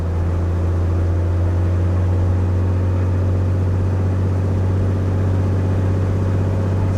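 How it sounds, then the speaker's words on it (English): Aircraft piston engine run up to 2000 RPM during a ground inspection, a loud, steady droning hum with a strong low tone and constant roar throughout, without any spoken voice. "I'll again increase the throttle. I'll again increase the RPM. I'll take it to 2000"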